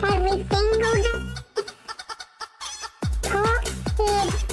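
Chickens on a livestream camera give a run of loud, close clucking calls at the start and again near the end, with quieter scattered sounds in between.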